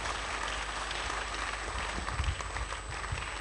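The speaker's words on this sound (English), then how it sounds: "I think the applause is not resounding enough" Steady applause from a crowd, a dense wash of clapping that continues throughout without pause.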